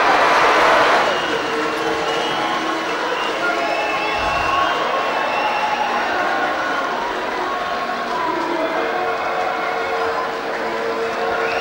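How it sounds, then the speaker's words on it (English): Wide crowd noise at a Wigan Athletic Division Three match as players take a trophy lap of honour, a sustained roar and cheer that stays steady and full throughout, with a commentator's voice over the top. "I'm sure they'll get a big cheer as they go around to the popular side"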